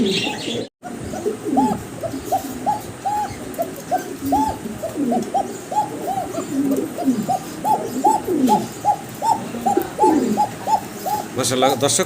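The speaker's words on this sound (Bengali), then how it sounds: "ককার ডাক শুনলেন আপনারা" A pair of pigeons at a market coo repeatedly, close and loud, in rhythmic bursts across the whole stretch, with voices of people talking mixed in underneath.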